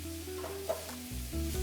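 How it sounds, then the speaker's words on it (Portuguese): Onion and garlic toasting in a very hot pan, a short burst of close sizzling and stirring with steady tonal hum or music underneath. "quando coloca mais cebola e alho para tostar"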